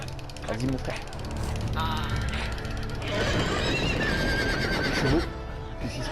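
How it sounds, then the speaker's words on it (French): Horses whinny and neigh in a Game of Thrones video game, loud and close over game sound, with several drawn-out calls and a sharp one near the end. "Chevaux."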